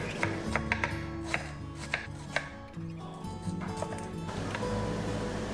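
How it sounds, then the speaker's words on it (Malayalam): A knife chops onion on a cutting board while chicken roast is prepared in a home kitchen, giving a quick run of sharp, close taps over a steady low background hum. "ഞാൻ ചിക്കൻ റോസ്റ്റ് റെഡിയാക്കാൻ വേണ്ടിയിട്ടുള്ള സവാള ഒന്ന് കട്ട് ചെയ്തെടുക്കുകയാണ്"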